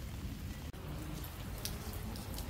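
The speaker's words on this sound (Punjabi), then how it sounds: "ਕਿਉਂਕਿ ਇੰਨਾ ਜ਼ਿਆਦਾ ਮੀਂਹ ਪੈ ਰਿਹਾ" Heavy overnight rain pours steadily in a dense, even hiss with scattered drop impacts, heard fairly quietly outdoors with no voices and one brief dropout.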